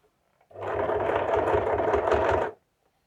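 A sewing machine stitches a suit collar in one continuous run of about two seconds, a close, steady mechanical whir that starts and stops abruptly against near silence.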